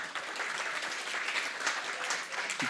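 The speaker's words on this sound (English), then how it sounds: "Please give him a round of applause." Steady applause from a crowd, dense clapping that holds evenly throughout without pause.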